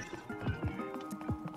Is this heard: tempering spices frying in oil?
no